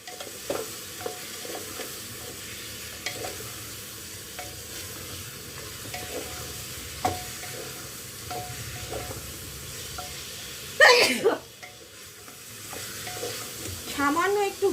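A water-ground spice paste is stirred in a frying pan, giving a soft continuous sizzle with repeated scraping strokes, then a loud clattering burst near the end and a brief murmur of voice.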